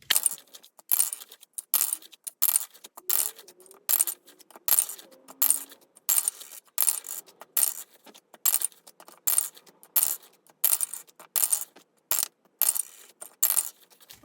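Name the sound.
dice being mixed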